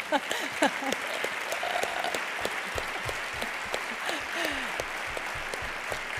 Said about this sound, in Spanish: Venga, ahí, aplauso.